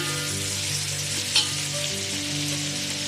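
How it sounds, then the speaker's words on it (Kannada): Onions fry in oil over a high flame with a continuous, even sizzle. A single brief clink cuts through the hiss partway through. "ಆನಿಯನ್ನು ಈಗ ಚೆನ್ನಾಗಿ ಫ್ರೈ ಆಗ್ತಾ ಇದೆ"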